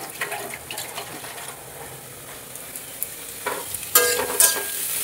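Radish greens fry in a pan with peanuts and dried chili, giving a quiet, steady sizzle with scattered stirring clicks and a brief louder crackle and clatter toward the end.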